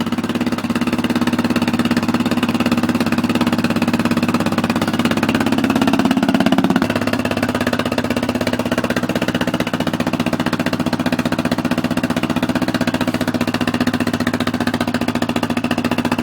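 A Honda 400ex ATV engine with a failing Namura piston, running a little rich, idling steadily: a loud, continuous low drone with a slight shift partway through, heard alone.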